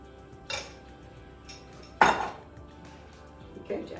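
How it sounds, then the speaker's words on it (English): A spoon knocks and scrapes against dishes while cream cheese is spread on a fruit pizza, three separate clinks, the middle one loudest and sharpest. "So it's easy to put spoonfuls of cream cheese in different spots, so it's easier to spread it out."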